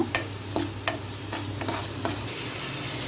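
Spice masala with yogurt fries in oil, making a loud, continuous sizzle broken by several sharp scrapes and taps of a spoon stirring the pan.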